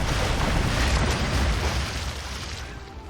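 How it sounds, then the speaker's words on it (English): A Minior cracking open a rock in the video game New Pokemon Snap, a loud, broad rumbling burst that fills the first two seconds and then fades into a softer lingering roar. "We summoned a Minior and it cracked a rocket."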